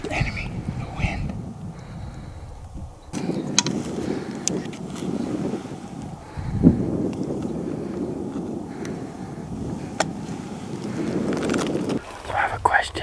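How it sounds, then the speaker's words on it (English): Wind gusting outdoors in open desert country during a hunt, a steady low rumble of buffeting against the microphone that swells and eases throughout, with a few faint scuffs and knocks. "Bow hunter's worst nightmare. Or worst enemy, the wind."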